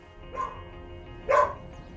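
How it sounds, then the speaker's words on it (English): A dog gives two short, sharp barks during a bailiff home visit, the second louder and nearer, over a quiet indoor room with no talk. "But then one of the dogs breaks free."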